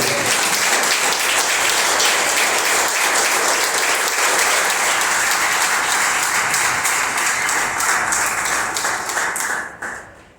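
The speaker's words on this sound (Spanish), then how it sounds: "Den un aplauso poderoso" Congregation applause during a church sermon, a loud, dense, sustained burst of clapping from many people that carries on for about ten seconds before quickly fading out at the end.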